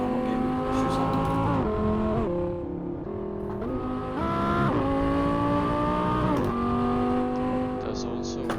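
BMW M4 with an Akrapovic exhaust in the Assetto Corsa racing game, the engine loud and close as it climbs through several gears, each upshift dropping the pitch before it rises again, with tire squeal and a steady, unbroken drone.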